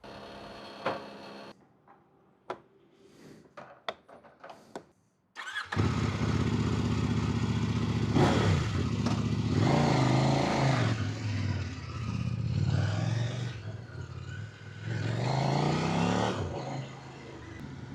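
A few clicks and quiet handling, then a KOVE 800X Pro motorcycle engine roars to life and revs repeatedly, rising and falling as it pulls away.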